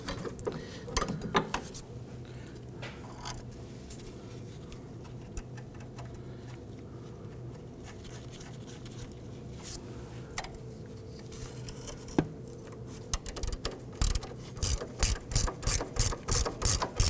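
A hand ratchet tightens a sway bar link nut on a 2008–2011 Ford Focus. Scattered faint clicks come first, then a rapid run of close, crisp ratcheting clicks builds over the last few seconds.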